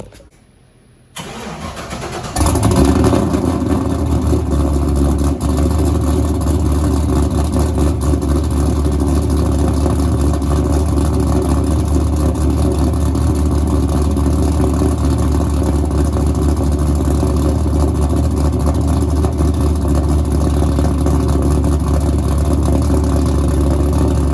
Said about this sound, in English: My engine started, and you can hear